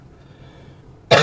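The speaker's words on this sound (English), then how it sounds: "I can't stop coughing." A single loud, harsh cough bursts out near the end after about a second of quiet room noise, close to the microphone.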